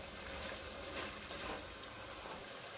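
Annatto (achuete) seeds cook in hot oil to make a coloring oil, giving a dense, even sizzle that stays close and constant for a few seconds with no talking.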